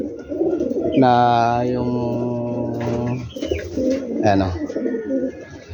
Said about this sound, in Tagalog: Ayun yung mga ibon natin na ano